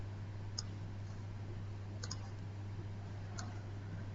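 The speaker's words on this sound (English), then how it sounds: "You can click and drag." Three faint, sharp mouse clicks spaced about 1.5 seconds apart while drawing shapes in Illustrator, over a steady low electrical hum with no talking.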